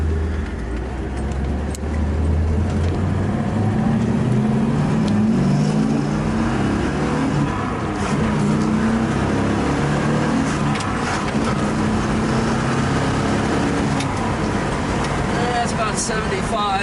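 A 1968 Chevrolet Camaro SS engine rumbles steadily as it drives at about 75, with road and wind noise, while a person talks over the drone.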